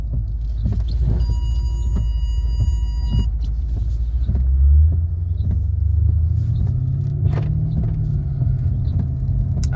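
A Mercedes S550 with aftermarket mufflers idles close by. Its deep, gruff exhaust rumble is steady, rises briefly partway through, and runs without talk.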